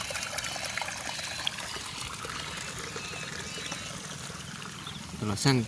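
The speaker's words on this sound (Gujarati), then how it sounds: "અને ખેતરની અંદર પાણી હવે જાય જ છે." Rainwater runs into a farm field during heavy rain in Nani village, Deesa taluka, Banaskantha: a steady, soft outdoor wash of flowing and trickling water, with a brief voice near the end.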